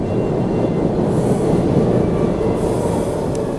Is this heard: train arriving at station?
yes